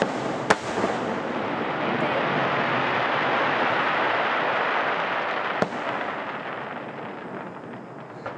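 Fireworks burst over a home deck, with a sharp bang at the start, a long, dense crackling hiss of falling sparks, and another sharp report midway, heard from moderately far.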